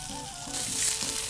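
Beef steak searing in a hot pan for a Japanese-style steak salad, a continuous crackling sizzle that grows slightly louder partway through, close and with no talk.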